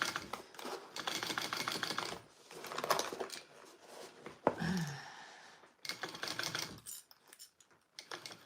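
A home sewing machine stitches in quick, rapid bursts separated by short pauses, with clicking and whirring at a fairly quiet, close level.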